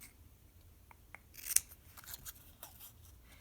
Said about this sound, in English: Again, cutting it out really quick.